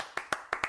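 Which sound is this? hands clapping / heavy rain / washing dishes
hands clapping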